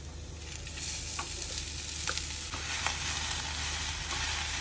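Cooked horse gram hits a hot tempering in a pan and sizzles steadily. The hiss and crackle stay close and even, with small pops and stirring scrapes and no talking.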